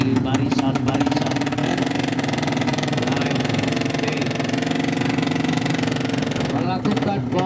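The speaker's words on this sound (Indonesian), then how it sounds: "nampaknya suara mesin sudah mulai terdengar di barisan-barisan" Several 200cc drag-race motorcycle engines run and rev steadily at close range in the staging lanes before a drag race, a dense continuous roar with talk mixed over it.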